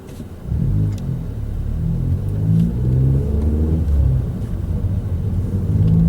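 A manual six-speed car's engine revs in first gear, a loud, steady rising mid-pitched growl with slight surges, heard close from inside.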